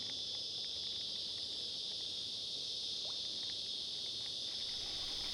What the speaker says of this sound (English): With the cicadas in full song, the fish might well be looking up.